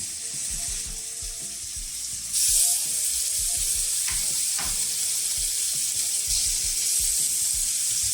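Steaks frying in butter in a pan give a continuous close sizzle that jumps louder a couple of seconds in and stays strong, with faint clicks and no talking.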